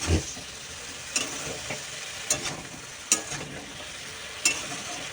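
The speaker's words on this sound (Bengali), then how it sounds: "কালো জিরে আর শুকনো লঙ্কা আমি ফোড়নে দিয়েছি এটা একটু সাঁতলে নিচ্ছি" Vegetables sautéing in hot oil with nigella seeds and dried chili, a steady close sizzle with a few soft clinks of a stirring spoon against the pan, no talk.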